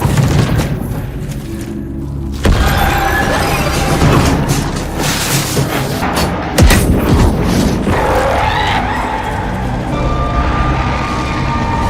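A large explosion destroys enormous creatures in a battle scene from the film The Gorge, heard as loud booms and crashing impacts that roll on through a dense, continuous roar of debris and action.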